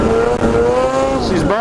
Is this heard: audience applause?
no